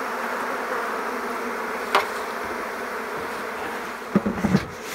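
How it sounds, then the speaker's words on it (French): Honeybees at a queenless hive hum in a steady, dense drone close by, with a few louder buzzes as individual bees pass near. "les abeilles qui font le rappel là"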